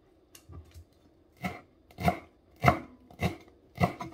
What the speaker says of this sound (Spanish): Voy a picar primero el cilantro. Bien finito.